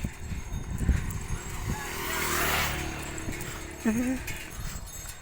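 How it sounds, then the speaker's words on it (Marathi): A bullock cart loaded with sacks of freshly harvested soybeans rolls slowly along a farm track, with soft hoof and wheel noise, a low rumble and a brief animal-like whine near the end. "ते तुम्ही पाहू शकता बैलगाडीने जात आहे हळूहळू आमची बैलगाडी जात आहे हळूहळू"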